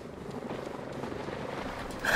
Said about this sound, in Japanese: あのヘリ、なんで止まってくんないの。